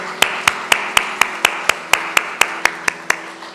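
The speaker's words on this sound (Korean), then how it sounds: "하나님께 영광 박수 올려드리겠습니다." A congregation claps in slow, even rhythm during a Sunday church worship service, about a dozen sharp, evenly spaced claps ringing out in a reverberant hall, loud and alone.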